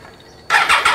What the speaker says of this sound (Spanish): Así suena la motito.